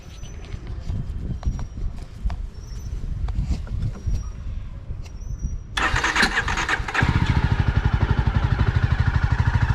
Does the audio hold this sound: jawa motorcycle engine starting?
yes